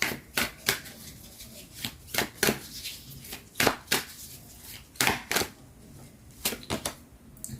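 Tarot cards being shuffled, close up, in quick irregular riffling bursts and soft slaps, with no talking over them.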